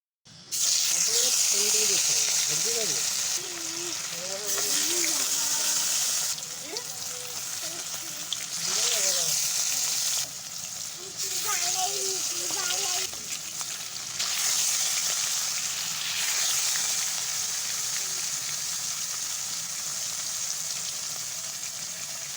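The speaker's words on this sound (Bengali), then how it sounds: "এদিকে তো মাছ ভাজা হচ্ছে" Pieces of rohu fish coated in salt and turmeric fry in hot oil, giving a loud, continuous sizzle and crackle close up that swells and eases as they are turned, with someone talking intermittently over it.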